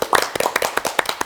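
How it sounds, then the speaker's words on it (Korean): A small group claps on a Korean variety show after the host praises three guests, giving a short burst of uneven, close hand claps with no one speaking. "박수"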